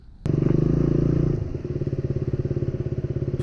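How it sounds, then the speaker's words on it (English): Motorcycle riding on the Silk Road in Sikkim, its engine loud and close, a steady roar that settles into a fast, throbbing pulse as the bike moves along the mountain route. "Finally riding my bike on Silk Road,"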